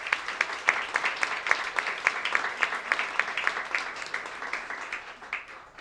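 An audience at a book launch claps steadily, a soft, fairly distant patter of many hands that goes on without pause and slowly thins out near the end.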